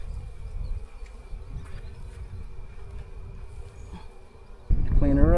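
Honey bees swarm and buzz steadily around an opened beehive during a beginner's hive inspection, a dense hum with a louder, closer burst of buzzing near the end as a voice talks faintly.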